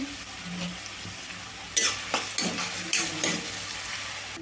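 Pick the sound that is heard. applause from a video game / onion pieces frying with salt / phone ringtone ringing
onion pieces frying with salt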